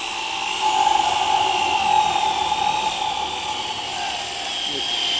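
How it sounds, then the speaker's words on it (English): A power drill fitted with a 7/8 inch speed bit bores a hole through the edge of a wooden door, giving a steady, close, high-pitched whine that holds for several seconds. "use a speed bit, in this case a 7/8 inch speed bit, to bore a hole through the edge of the door"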